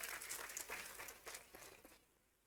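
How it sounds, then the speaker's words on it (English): Audience applause for a volunteer at a charity anniversary event, a dense patter of many clapping hands that stays steady, then thins and fades out near the end. "So big round of applause for her."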